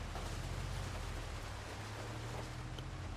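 Steady rain in the video game Project Zomboid, a constant soft hiss with a low rumble beneath it, filling the scene evenly without pauses.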